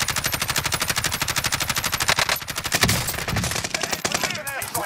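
Automatic gunfire in a video game, rapid unbroken bursts of loud, evenly spaced shots that keep hammering for the whole stretch, with a brief heavier blast midway and no talking.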